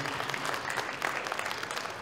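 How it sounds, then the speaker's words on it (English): An audience at a making and 3D-printing event gives Josef Prusa and Ben Eadie a big round of applause, a continuous wash of many hands clapping at moderate level, steady throughout. "I would really love it if you guys would give them a big round of applause"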